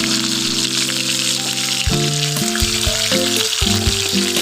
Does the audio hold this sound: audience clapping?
no